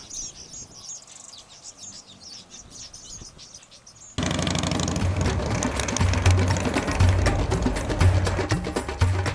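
Busy high-pitched chirping and twittering of weaver birds, faint at first, then a louder dense chorus of rapid chirps with a low rumbling hum beneath.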